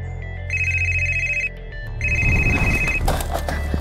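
A telephone rings in two long electronic bursts separated by a pause, loud and close, with some rustling and handling noise after the second ring.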